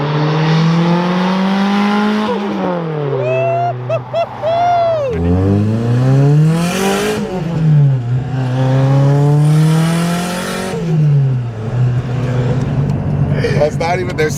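A drift car's engine revs high and falls repeatedly, rising and dropping in pitch, loud and close with tire noise, while people talk in the background.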